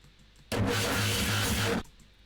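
An electronic sound effect made in Ableton, meant to mimic a car struggling to start: a loud, coarse, noisy burst of about 1.3 seconds with a low, uneven pulsing underneath, cutting in and out abruptly against near silence.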